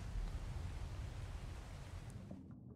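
Steady rain hisses in a dense, even wash underwater in Ark, a continuous broadband patter that holds at a constant level before cutting off near the end.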